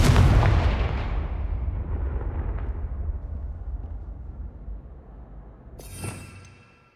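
A fire-spell blast from the video game Hogwarts Legacy bursts out as a loud, close boom and then rumbles away for several seconds, with a second sharp crackling hit near the end and no talking.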